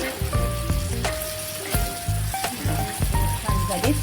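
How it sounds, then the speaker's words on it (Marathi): Mandeli fish frying in hot oil over a high gas flame, a steady close sizzle with crackles and pops alongside clinking and stirring noises. "आता ही आपण फ्राय करून घेणार व्यवस्थित"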